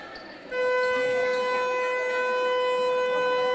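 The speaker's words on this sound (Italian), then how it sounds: "e al suono della sirena" Basketball arena horn in a Treviso vs Trieste game sounds one long, loud, steady tone to end a time out, starting abruptly after a brief murmur of crowd noise.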